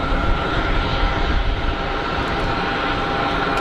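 A KLM jet airliner at Geneva Airport gives a loud, continuous engine roar, dense low rumble filling the air close by without letup.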